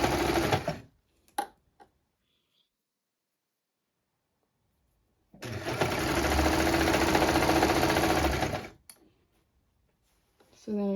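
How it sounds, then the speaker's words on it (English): A sewing machine runs steadily for about three seconds as it stitches a fabric seam on a reversible halter crop top, with brief handling noises before and after and quiet gaps around the burst. "I'm just going to start sewing."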